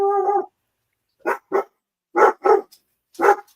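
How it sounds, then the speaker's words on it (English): A pet dog barks indoors in five sharp, separate barks spread over a few seconds, close and fairly loud, after a brief tonal whine at the start. "No idea what the hell she was barking at."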